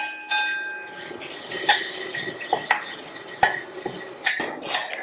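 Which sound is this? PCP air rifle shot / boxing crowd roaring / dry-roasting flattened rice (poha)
dry-roasting flattened rice (poha)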